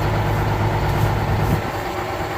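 A tractor engine idles steadily out in a field, a continuous low rumble holding even and fairly loud throughout, with no voices over it.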